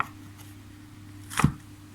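A single sharp knife chop through bee mushrooms (hed phueng) being sliced for sun-drying, one close, crisp cut on a board in an otherwise quiet setting.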